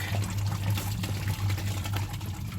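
Coolant drains steadily out of a Ford Excursion radiator, a continuous pouring splash over a low, steady hum.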